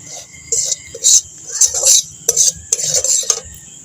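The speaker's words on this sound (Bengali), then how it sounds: "হালকা আঁচে আমি সুজিটা ভেজে নেব" A utensil scrapes and stirs semolina dry-roasting in a pan over low heat, a close series of short scratchy strokes and clinks against the metal, with brief pauses between them.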